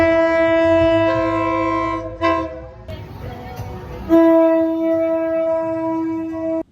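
A train passes close by at a Thai market, its loud, sustained horn blaring nearby, dropping out briefly amid rumbling rail noise, then sounding again strongly.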